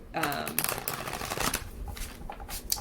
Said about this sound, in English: I'm shuffling a second tarot deck here.